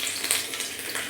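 Dried chilli and chopped garlic sizzle and crackle in hot mustard oil with a busy, steady hiss, close and loud, alone without talk.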